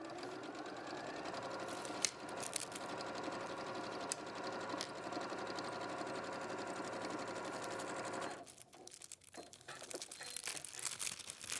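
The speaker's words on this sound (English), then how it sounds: "I'm gonna sew in the middle one more time" A sewing machine stitches steadily through a quilt, loud and close for about eight seconds, then stops and gives way to fabric rustling and handling sounds.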